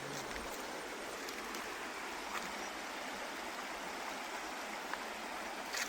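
A stream flows steadily nearby, a continuous close-up wash of running water that holds an even level throughout with no voices.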